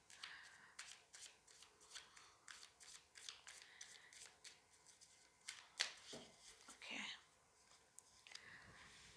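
A deck of tarot cards is shuffled in quiet, rapid riffling bursts close by, ending with a few taps and rubs, while a soft voice speaks under it.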